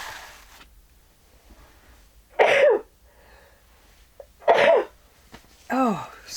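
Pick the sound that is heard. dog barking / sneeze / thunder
sneeze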